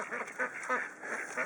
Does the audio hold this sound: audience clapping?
no